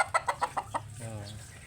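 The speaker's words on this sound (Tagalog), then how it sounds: "Siya nagapakaon tanan sa manok mo." A rapid series of about six close chicken clucks in steady rhythm, trailing off into a softer drawn-out cluck.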